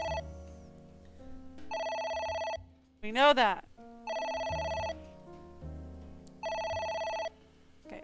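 An old-style telephone in AI: The Somnium Files rings in three steady electronic bursts with pauses between, while a voice speaks briefly during one of the gaps.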